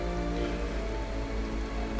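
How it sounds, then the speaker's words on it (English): Steady, dense rain pours down in Final Fantasy XIV, a continuous even wash of falling water that stays close and fairly loud throughout, with no voices. "it is starting to pour down rain upon us"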